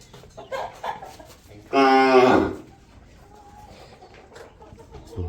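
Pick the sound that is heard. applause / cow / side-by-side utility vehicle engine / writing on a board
cow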